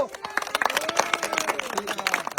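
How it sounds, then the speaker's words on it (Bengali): An audience claps for the winners of a game at a lively challenge event, quick uneven claps with crowd noise and a voice talking over them. "আমরা সবাই একটা জোরে করতালি দেব"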